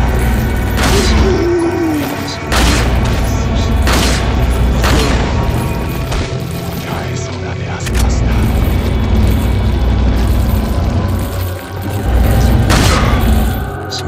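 Shotgun blasts in Resident Evil 4, several loud booming shots spaced a few seconds apart over dense game noise, with some mechanical clatter between them.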